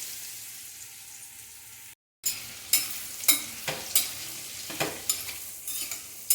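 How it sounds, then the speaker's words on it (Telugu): Paneer pieces frying in hot oil in a pan for a dhaba-style paneer masala curry. A faint hiss is cut by a brief silence, then louder sizzling comes with a series of sharp spatula scrapes and taps, close up. "ఆ పన్నీర్ యాడ్ చేసుకుందాం"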